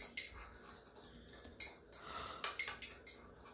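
A utensil clinks and scrapes against a container as bacon cure spices are mixed, making a series of quick, light taps and rattles close by.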